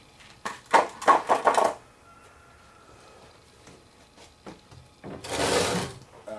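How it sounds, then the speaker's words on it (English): The plastic lid of a compost tumbler being unscrewed: a rapid series of grinding, ratcheting scrapes, a quieter pause with faint handling, then a longer rough scraping burst, all close up. "The lid screws off real easy."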